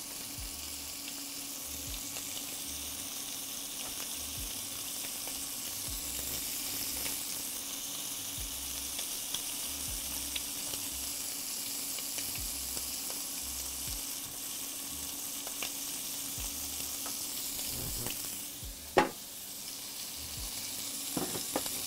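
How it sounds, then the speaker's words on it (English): Butter and basil sizzle in a pan for a hashbrown breakfast casserole, a steady frying hiss that runs throughout. A brief clatter comes near the end, and no one talks. "It is sizzling and happy."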